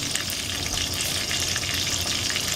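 Steady, dense sizzling and crackling of meat for pepper steak frying in a hot pan, loud and close, continuing without pause.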